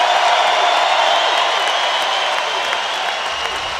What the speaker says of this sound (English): your champion, Sammy Brooks, gives the home crowd fans something to stand up and cheer for.